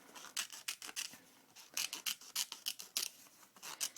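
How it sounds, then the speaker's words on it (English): Scissors cut through old book paper in quick rhythmic snips, a dozen or more crisp close cuts in bursts, alone without talk. "So all I'm doing is continuing to judge the distance from the edge of my paper and cut inward."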